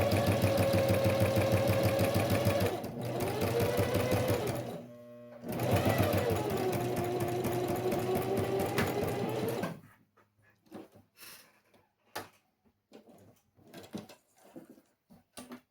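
A sewing machine runs a topstitch seam on a fabric case, whirring steadily in two bursts of about four seconds each, separated by a brief pause. After that come scattered soft handling clicks and rustles.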